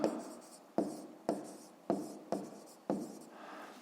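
Pen strokes scratching across paper while writing out a geometry calculation, six distinct bursts of scribbling in an uneven rhythm, close and fairly quiet, with no talking.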